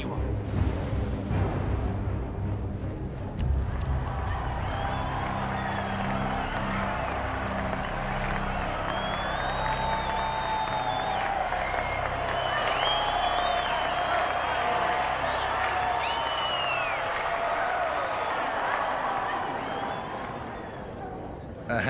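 In the Hitman 2 video game a large crowd murmurs and applauds with scattered clapping and chatter. The sound is a steady, moderately loud wash of crowd noise, with a voice speaking over it.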